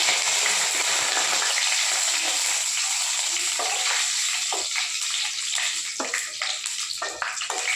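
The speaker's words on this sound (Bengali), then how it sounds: "এবার ফোড়ন দিয়ে দেবো।" Whole spices—green and black cardamom, cinnamon, cloves and bay leaves—frying in hot oil in a wok, a loud, steady dense sizzle throughout with occasional sharper crackles and stirring scrapes near the end.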